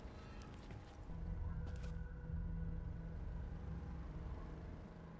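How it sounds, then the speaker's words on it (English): A car engine rumbles in the Borderlands video game, a steady low drone that swells slightly and holds at moderate distance with no voices. "I can hear a car."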